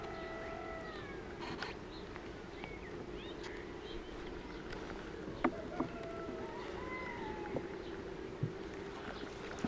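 Honey bees buzz faintly around an open hive during an inspection of the brood frames, with occasional light clicks and knocks of the frames being moved.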